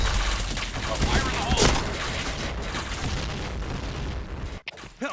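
Rapid gunfire from a shooter video game played at an internet cafe, dense continuous bursts of shots and booms filling the room, with a brief drop near the end.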